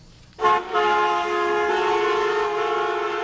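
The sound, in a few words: car horns honking in news report of protest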